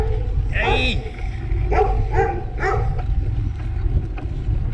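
A dog yips and barks a few times outdoors while someone rides a bike, the short sharp barks mixed with speech and steady wind noise over the microphone.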